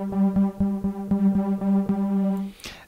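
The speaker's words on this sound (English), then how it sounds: "If I turn this filter down, it will start to dull it off." A synthesizer lead preset for trance, darkened by a low-pass filter, pulses in an even run of about ten short repeated notes with a muted, rounded tone, ending in a brief noisy swish.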